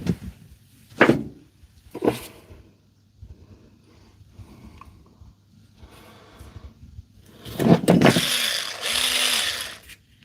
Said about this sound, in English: get these wires chopped off